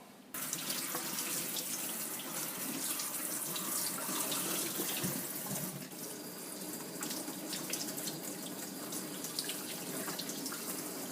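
Tap water runs steadily and fairly loud while a chicken of the woods mushroom is rinsed and rubbed clean under it, a continuous sink splash with slight shifts in flow and no talking.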